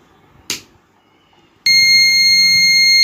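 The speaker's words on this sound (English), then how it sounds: "as the buzzer is ringing, the circuit is complete now" A brief click, then an electric buzzer in a circuit with series resistors starts and rings continuously, loud and steady, with a high piercing tone.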